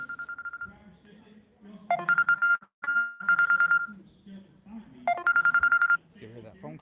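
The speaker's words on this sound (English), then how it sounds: "You hear that phone call?" A telephone rings in repeated electronic trills at a Monday night car cruise in Lapeer, Michigan, loud bursts alternating with pauses while people talk in the background.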